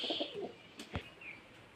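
Soft pigeon coos with low murmuring calls, a couple of brief flutters and a faint higher chirp, close by with no talking.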